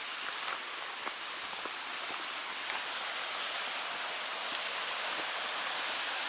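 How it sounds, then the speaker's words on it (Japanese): A waterfall on a clear mountain stream at a campsite gives a steady, broad rushing roar that holds evenly throughout, with no voices. "あそこにね滝があるんだよね。"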